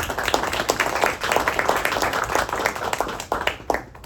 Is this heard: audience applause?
yes